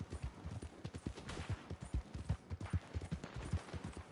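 Horse hooves clip-clopping in the video game Red Dead Online, a rapid, rhythmic run of hoofbeats close by with a faint background rumble.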